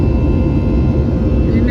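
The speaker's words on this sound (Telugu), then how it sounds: "షేక్ అవుతుంది ఫ్లైట్." Loud, steady cabin roar of an airliner on a Philadelphia to Austin flight, shaking through turbulence in bad weather; a dense low rumble fills the whole stretch without letting up.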